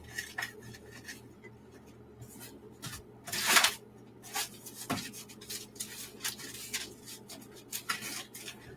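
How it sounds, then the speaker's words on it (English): Paper crumpled by hand in short bursts of crinkling and rustling, with the loudest crush near the middle, close up and with no voices. "Crumple."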